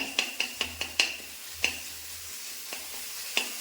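A spice paste stirred into frying chicken in a pressure cooker pan, with a soft sizzle under a series of sharp spoon clacks against the metal, quick at first and then sparser.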